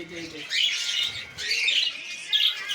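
Ring-necked parakeets at a bird market give harsh squawks and chirps in repeated bursts, loud and close.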